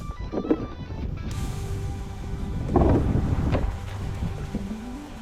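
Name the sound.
strong wind while fishing at sea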